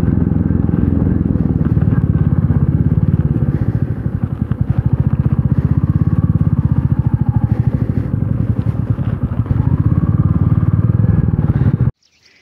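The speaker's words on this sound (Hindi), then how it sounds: "ये लगी अपनी दोनों बाइक्स, ये पल्सर N160 और ये अपना मेटियोर 350" Two motorcycles, a Pulsar N160 and a Meteor 350, run close by on a rocky road near Thana Dam, producing a steady, loud, rhythmic engine thump that cuts off abruptly at the end.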